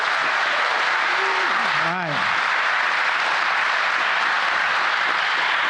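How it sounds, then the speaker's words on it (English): A crowd at an engine builder showdown applauds the competing teams, a dense, sustained wall of clapping and cheering that continues throughout while an announcer speaks briefly over it. "You want to give them a round of applause for these guys?"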